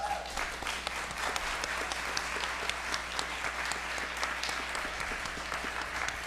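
A summit audience gives a sustained round of applause for an award honoree, broad even clapping from many people at a distance, faint and continuous throughout with a low hum beneath.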